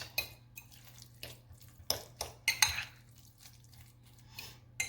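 Spoon stirring chili verde in a Kitchen Craft pot, making repeated metallic scrapes and clinks in an uneven rhythm, close by, over a low steady hum.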